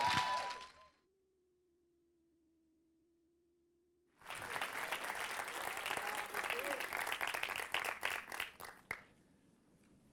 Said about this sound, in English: Now you can clap for him.